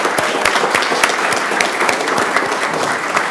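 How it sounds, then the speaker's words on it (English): Audience clapping for sports coaches at a school board of education meeting, a dense, steady round of applause lasting a few seconds with no talk over it. "Can we get a huge round of applause for our coaches as well?"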